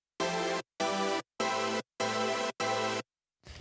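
Layered synth chord stack with its top-line layer restored, heard as five punchy, evenly spaced chord stabs separated by short silences, followed by the start of another hit.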